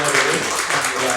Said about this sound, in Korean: 우리 예수님 부활하신 예수님께 우리 영광의 박수 한번 올려드릴까요?